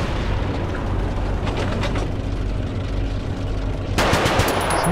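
Tank machine gun fire in War Thunder, a dense sustained chatter of rapid bursts over a low rumbling engine, growing louder and harsher near the end.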